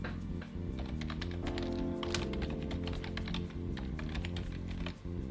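Keys clatter on a computer keyboard as an email address is typed, a steady run of close, quick taps that continues without pause.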